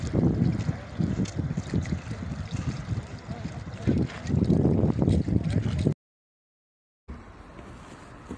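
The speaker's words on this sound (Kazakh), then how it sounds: "Судың келуі мынау" The flooding Oyil river near Miyaly surges past in a steady, loud roar of rushing water with wind buffeting the microphone, broken by a brief silent gap before the torrent resumes more faintly.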